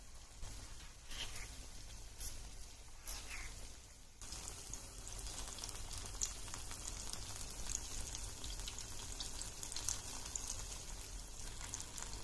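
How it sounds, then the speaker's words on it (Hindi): Banana buns (gulgule) deep frying in hot oil in a kadhai, a steady dense sizzle and crackle that holds from start to finish, louder and fuller after the first few seconds, with no talk over it. "तेल अच्छे से गर्म हो गया है तो अब बंस को इसमें ऐड कर लेंगे"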